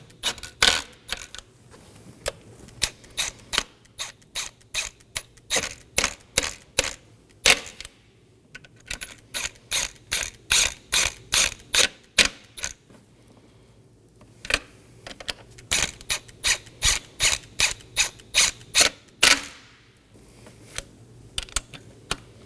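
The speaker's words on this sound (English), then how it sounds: "I'm going to snug down my intake manifold fasteners to the sequence you see on screen." A ratchet snugs down the intake manifold fasteners on a 2015-2023 Nissan Maxima, giving bursts of crisp, rapid clicking that repeat in steady runs with short pauses between them. The clicks are close and sharp, with no talking.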